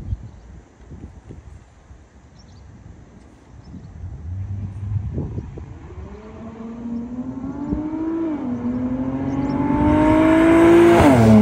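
A V6 car with a resonator delete approaches from a distance, its exhaust note rising in pitch and volume as it accelerates past, ending loud and close with wind noise over the microphone.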